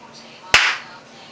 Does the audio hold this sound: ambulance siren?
no